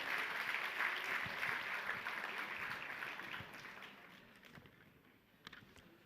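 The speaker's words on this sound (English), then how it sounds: "Right at the back, round of applause for them." An audience applauds a quiz team at an indoor event, with a dense wash of clapping that slowly thins and fades, leaving a few scattered claps near the end.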